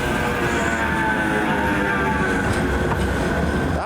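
A tram on the Manchester Airport line passes at a station, a steady loud rolling rumble with a high sustained tone and faint rail clatter, continuous throughout with no voices.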